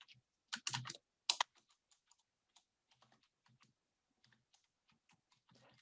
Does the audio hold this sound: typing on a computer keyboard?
yes